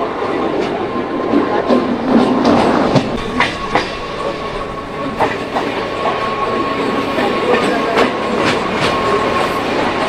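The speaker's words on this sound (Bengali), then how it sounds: "শ্রীপট শ্রীখণ্ড থেকে আমাদের ট্রেন ছেড়ে দিল" Katwa–Barddhaman passenger train pulling out of Sripat Srikhanda station in West Bengal, heard from on board: steady rumbling carriage noise with repeated clickety-clack wheel beats over rail joints, loud and close, with no talking.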